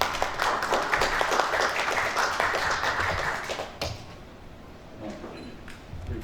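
Audience applause at a Korea Journalists Association forum hosting a Democratic Party presidential hopeful, greeting the association president; dense clapping for about four seconds, then thinning into a few scattered claps.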